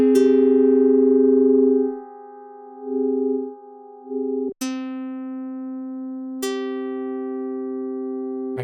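Odin2 software synth tone routed through a comb filter, a sustained buzzy harmonic note that shifts in timbre, then restrikes twice with a bright attack and holds steady with a faint wavering beat, loud and alone.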